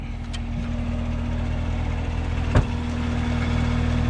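A Chevrolet Corvette C7 Z51 cruises smoothly with freshly bedded brakes, its engine a steady low drone heard from the cabin, with one brief sharp knock partway through.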